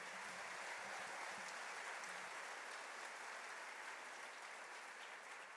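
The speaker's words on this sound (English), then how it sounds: "can we get a round of applause, please?" An audience at a fourth grade choral festival gives a round of applause, a dense, steady wash of many hands clapping that holds evenly throughout, heard from within the crowd.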